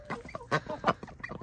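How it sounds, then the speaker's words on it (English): Mallard and Rouen ducks giving a few close, quick quacks and clucky calls in a backyard garden, short bursts in quick succession. "These are mallards and these are Rouen ducks."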